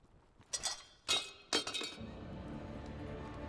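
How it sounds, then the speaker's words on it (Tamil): A plate breaks in three sharp crashes of clinking, shattering ceramic, each a quick bright burst, followed by a low lingering rumble, in a Tamil-dubbed Chinese period drama. "அந்த தட்டு உடைஞ்சு போச்சா?"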